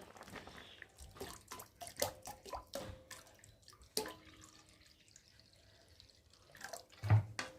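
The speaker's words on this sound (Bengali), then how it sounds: "চলো একটু ডাল দিয়ে দিই, জল দিয়ে দেবো।" Water is poured into a pot of cooked, softened masoor dal, giving scattered drips and splashy pours with clinks of utensils, close and fairly quiet, with a louder splash near the end.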